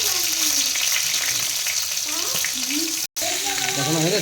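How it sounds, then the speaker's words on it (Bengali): Potato pieces fry in oil in a wok with a loud, continuous sizzle, briefly cutting out for a moment, while faint voices sound underneath. "এটা আলুটা একটু তেলে ভেজে নিলাম।"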